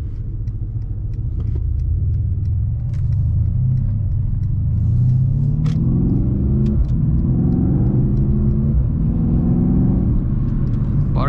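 A 2020 Mercedes-AMG C63 S sedan with a 4.0L V8 is being driven, its engine rumbling steadily from inside the car and rising in pitch as it accelerates, loud and continuous with no talk.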